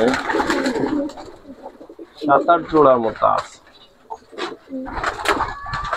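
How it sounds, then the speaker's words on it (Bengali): Pigeons cooing softly nearby in a backyard pigeon loft while someone talks over them, with a few short bursts of coos between his phrases. "এই যে আছে অল্প কিছু কবুতর আছে, অনেকগুলা। এই কটা আমার কবুতর আছে"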